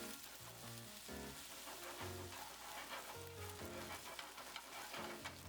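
Egg scrambling in hot oil in a pan for an egg and tomato stir-fry, a steady close sizzle with faint spatula stirring, continuous and without talk.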